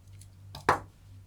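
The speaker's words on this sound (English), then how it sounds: "I just cut off the yarn" Scissors snip through crochet yarn at the edge of a ushanka hat, a single short, crisp cut near the middle, preceded by a faint rustle of handling, in an otherwise quiet room.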